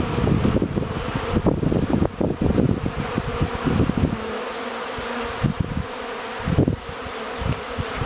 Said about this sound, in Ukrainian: Всі вулики досить хорошо облітаються.